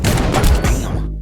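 A quick, loud burst of rapid gunfire from the shooter game Echo Point Nova, several close shots run together before cutting off, then one more shot right at the end.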